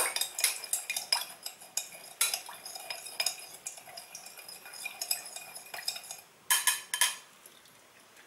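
Spoon stirring a weight loss shot drink mixed with water in a glass, quick repeated clinks and scrapes against the sides, close and light, with a short pause before a final burst of stirring.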